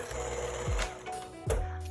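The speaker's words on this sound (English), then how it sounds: "I'm gonna switch over to my electric whisk." An electric hand whisk beating cake batter with eggs gives a close, continuous motor whir, with brief knocks and shifts in pitch as it moves through the bowl.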